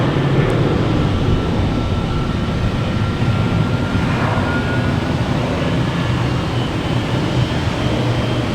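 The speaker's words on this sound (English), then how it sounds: "we have American Airlines taking off to JFK and E-175" An American Airlines Embraer E-175 jet takes off at Boston Logan Airport, a steady, loud, broad roar that holds throughout with no speech.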